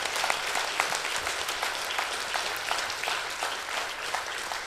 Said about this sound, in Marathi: आपण जोरदार टाळ्या वाजवून